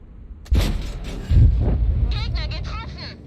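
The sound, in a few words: tank cannon fire and explosions in video game World of Tanks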